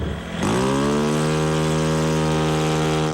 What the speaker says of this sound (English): The wood propeller plane flies for 5 hours straight, twice a day